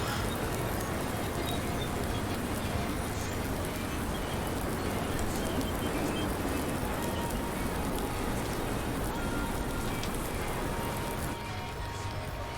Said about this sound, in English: The rain sound effects are sick.